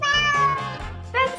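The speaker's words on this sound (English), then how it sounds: "The cat says meow," A cat meows during a children's animal-sounds lesson: two or three close, clear, rising-and-falling tonal meows in quick succession, fairly loud and heard alone without talk.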